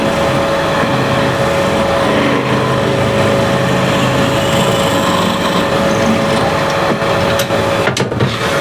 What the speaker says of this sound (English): Just drill the hole in.